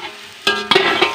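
Broccoli stir-fried in a pan at home, a short quiet stretch giving way to loud, close sizzling bursts and stirring scrapes that continue steadily to the end.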